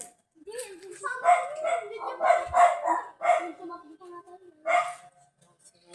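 A dog barks in short bursts nearby, mixed with brief yips, while a person talks in between.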